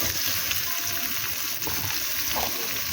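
Cooking oil sizzles and crackles steadily in a wok set over a clay stove, a dense continuous frying hiss close by with no talking.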